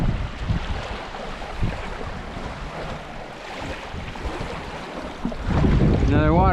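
Big waterfall among weathered rocks, a steady loud roar of rushing water close by with wind buffeting the microphone, growing louder toward the end.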